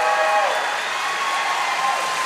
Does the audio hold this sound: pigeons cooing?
no